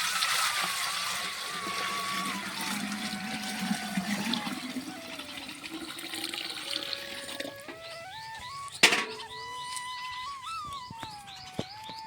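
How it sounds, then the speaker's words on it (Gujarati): Water pouring and splashing as it is filled from a village well, with birds chirping in the background and a sharp splash partway through. "વાયથી પાણી ભરી આવે વાંડો ભરી"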